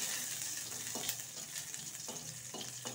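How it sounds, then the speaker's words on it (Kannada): A garlic clove frying with cumin seeds in hot oil for a millet soup, giving a steady close hiss and sizzle broken by a few soft scraping stirs. "ಒಂದೇ ಒಂದು ಬೆಳ್ಳುಳ್ಳಿ ಹಾಕ್ತಾ ಇದೀನಿ, ಜೀರಿಗೆ ಸಿಡಿದ ಮೇಲೆ ಒಂದೇ ಒಂದು ಬೆಳ್ಳುಳ್ಳಿ। ಅದು ಫ್ರೈ ಆದಮೇಲೆ"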